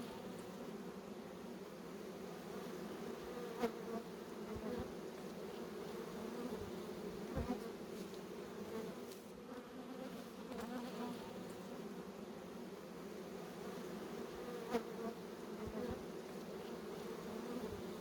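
Honeybees at hives in Cuba hum in a dense, continuous drone, a steady buzzing swarm close by with occasional brief knocks.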